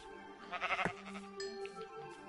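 Minecraft sheep bleating in the video game, one clear wavering bleat followed by fainter game sounds and a soft second bleat, fairly quiet overall.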